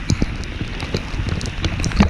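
Golf ball size hail falls during a storm, pelting down in a steady patter with sharp, irregular knocks of individual hailstones over a continuous rain-like hiss, close and loud.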